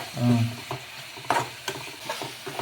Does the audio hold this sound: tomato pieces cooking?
yes